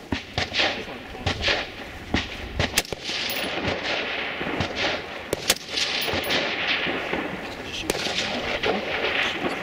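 Rifle shots crack out at an outdoor practical rifle match, a string of sharp reports spaced a second or so apart, some louder and nearer than others, with faint voices between them.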